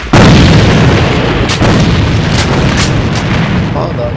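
A grenade detonating in the AVA video game, one loud heavy boom right at the start that rolls into a long rumbling decay with scattered crackles and faint distant shots.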